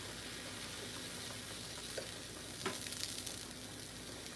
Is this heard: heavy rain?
no